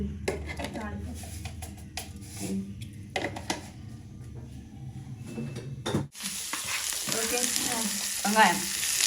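Fennel seeds and mustard seeds fry in hot oil, a low rumbling crackle with some background voices that turns into a bright, steady sizzle over the last few seconds.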